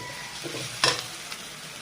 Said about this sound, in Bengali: কাঁচা ঝালটা দিয়ে দিলাম, দিয়ে ভালো করে ভেজে নেব।